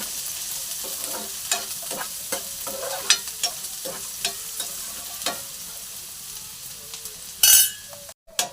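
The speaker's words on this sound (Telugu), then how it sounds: "ఉల్లిపాయ ముక్కలు వేసి వేయించుకుందాం." A large chopped onion fries with green chilies in a pan for a liver fry, a low sizzle broken by regular scraping clicks of a spoon about twice a second, then a sharp loud burst near the end.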